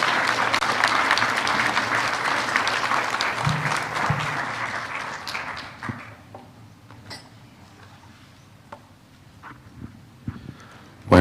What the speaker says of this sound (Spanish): Con fuertes aplausos vamos a recibir al Pastor Pablo Shin.